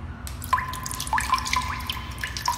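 In a children's music exercise imitating raindrops, pencils tap out sparse, bright, drip-like clicks, a handful of separate close taps spread unevenly with no talking.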